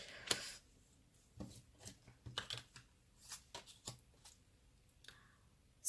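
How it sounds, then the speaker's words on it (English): A deck of tarot cards is shuffled face down in a quiet room, giving a run of soft, irregular riffling and snapping bursts, close and fairly faint, with no talking. "I shuffle all these down, face down, so I don't know what they are until I pull them out."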